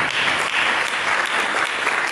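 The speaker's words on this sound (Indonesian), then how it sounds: "Mari kita berikan tepuk tangan." A church congregation at a sermon applauds in a dense, loud burst of clapping that stays even for a couple of seconds, with no voices over it.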